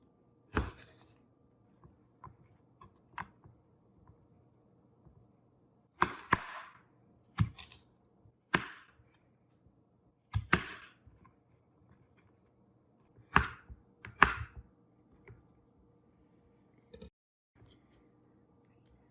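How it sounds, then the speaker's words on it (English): A knife slices sweet potato into thin rectangles on a cutting board, giving irregular sharp chops that come singly and in short clusters, close and clear with quiet pauses between them. "we're going to cut it into thin rectangles"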